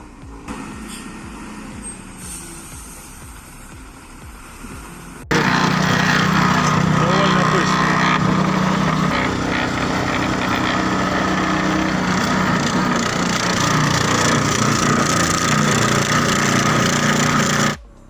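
Small tractor engine strains loudly and steadily, trying to drag a loaded AS950 machine out of deep mud, a constant close roar that starts abruptly after a quieter opening and runs unbroken to the end.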